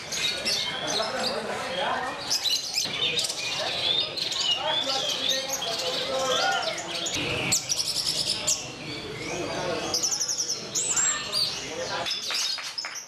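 Songbirds chirp and trill at a Javanese bird contest in Java, Indonesia, with dense overlapping calls running throughout amid crowd noise and chatter.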